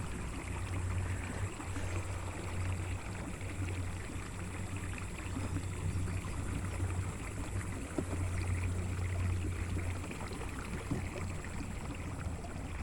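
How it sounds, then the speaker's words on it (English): A fully rigged fishing kayak's steering motor runs steadily on a 12V 100Ah battery, a low, quiet continuous hum under water lapping against the hull, with no talk. "That is the quietest that I've ever heard that steering motor."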